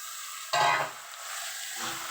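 Potato dropped into hot oil bursts into a loud, sudden sizzle, then settles into a steadier frying hiss as it is stirred, with a soft scrape near the end.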